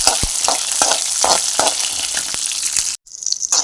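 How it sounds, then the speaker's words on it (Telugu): Green chillies fry in hot oil with a loud, close, continuous sizzle and crackle and occasional stirring knocks. The sound cuts out abruptly near the end, then returns more faintly. "కొంచెం ఆయిల్ పోసుకొని పచ్చిమిరపకాయలు వేసుకున్నాం"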